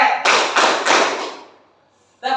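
Three loud, evenly spaced hand claps in a classroom clapping game fade into room reverberation, followed by a brief burst of voices.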